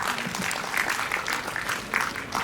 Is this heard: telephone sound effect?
no